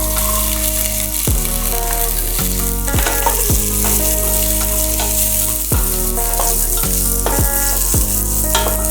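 Halved small onions frying in a pan over medium heat for koottanchoru, a loud continuous sizzle with repeated stirring scrapes and clinks, no voices.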